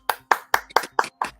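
Six sharp, close handclaps, evenly spaced and crisp, with brief silence between each.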